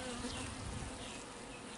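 Honeybees buzzing around their queen in a hive, a dense, continuous drone of many insects, steady and close with no voices.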